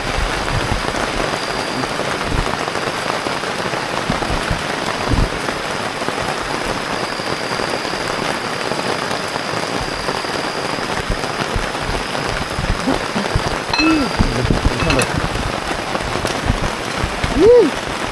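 Heavy rain pounds steadily on the roof of a camp at night, a dense and continuous hiss of drops with a few louder knocks near the end. Voices are faintly audible underneath.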